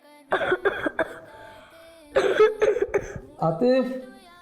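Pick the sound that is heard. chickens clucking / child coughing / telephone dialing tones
child coughing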